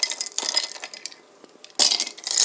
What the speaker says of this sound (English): First thing you gotta do is you put the ice cube into